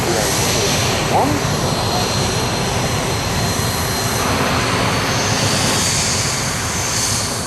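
BAE Hawk jets of the Red Arrows at an air show run their engines before takeoff, a loud, steady jet roar under an announcer's commentary.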